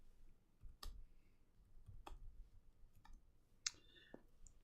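Sparse clicks of keyboard typing, a few scattered keystrokes at an uneven pace, close and fairly quiet, with no voices.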